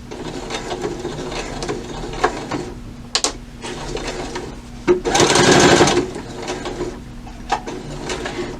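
A sewing machine runs a locking stitch along the hem of a ribbon skirt, its steady mechanical whirr and ratcheting needle clatter close and loud, with a faster burst midway and brief pauses.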